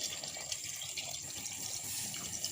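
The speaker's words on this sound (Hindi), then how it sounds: "इसके बाद पानी डालते हैं हम" Water pours steadily into a cooking pot during preparation of a bhindi gosht (okra and mutton) curry, a continuous close splashing fill with no talk over it.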